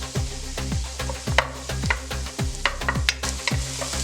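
Crushed garlic and onions frying in oil in a pan, a close, steady sizzle broken by a regular rhythm of scraping stirring strokes, with no talk.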